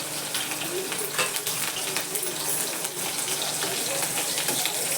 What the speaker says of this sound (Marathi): तेल तापलं बघा जिरं घालते मी